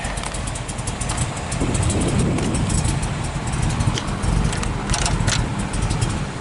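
A 1959 Aston Martin MKIII idles and runs nearby, giving a steady, loud engine rumble with a slight swell partway through and no talking over it.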